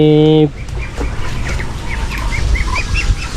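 Newly hatched Black Australorp chicks peep in a steady series of short, high chirps, with a brief harmonic call at the start and a low background rumble throughout.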